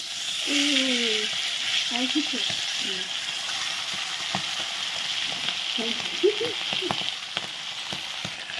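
Pieces of katla fish fry in hot oil with a continuous, moderately loud sizzle, while a voice speaks a few short phrases over it.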